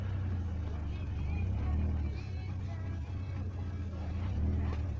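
UAZ Hunter off-road vehicle running on a trial course, its engine giving a steady, continuous low rumble throughout, with a person talking over it.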